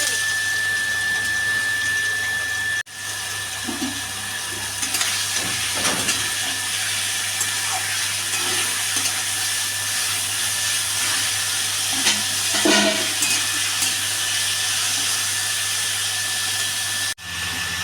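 Finely shredded radish sizzles in hot oil in a wok, a steady bright hiss with faint crackles and stirring scrapes lasting throughout, broken by two brief dropouts.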